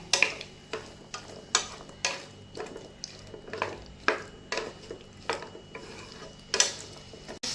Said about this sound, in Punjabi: ਹੁਣ ਪਾਤਨ ਦੇ ਵਿੱਚ ਆਲੂ ਹੁਣ ਪਹਿਲੇ ਆਲੂਆਂ ਨੂੰ ਭੁੰਨ ਲੈਣਾ ਹੈ